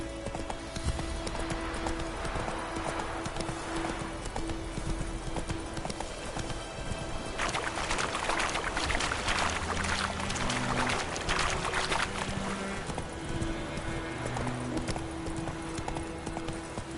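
Hooves of Roach, Geralt's horse in The Witcher 3, clip-clop steadily at a gallop over a busy game soundscape with background music, continuing throughout at a constant loud level.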